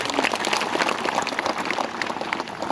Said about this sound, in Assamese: ছাত্ৰ ছাত্ৰীসকলে এটা ডাঙৰকৈ হাত তালি বজাব লাগে